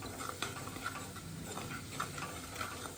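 A spoon stirs and mixes garlic rice ingredients in a pan, with steady scraping strokes and a light sizzle of frying beneath, close and moderately loud, no talking.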